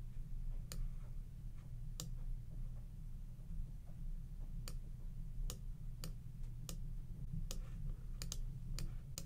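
Mouse clicks during concept map editing on a computer, sharp isolated ticks scattered irregularly across the stretch over a steady low hum, with no talking.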